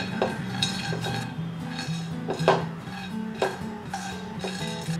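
Cinnamon, black cardamom, mace, stone flower and bay leaves dry roasting in a pan over low gas, with a spoon repeatedly scraping and clinking against metal in an uneven stirring rhythm, no voices.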